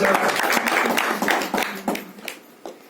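A church congregation claps during a pastor's sermon, dense applause that thins out into scattered individual claps and fades away.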